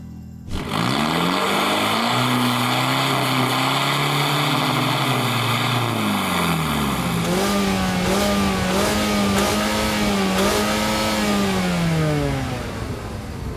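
A car engine idling then revving repeatedly, pitch rising and falling in waves, loud and close with no talking.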